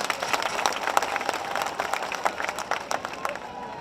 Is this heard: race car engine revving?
no